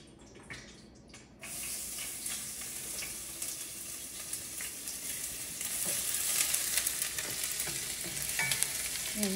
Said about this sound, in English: now I'm gonna take 3 shallots that I've chopped and add it to my skillet back here